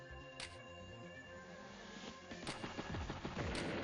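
Artillery strike in Advance Wars: Days of Ruin, heard as a continuous crackle of rapid gunfire-like bursts that swell louder toward the end, over steady game music.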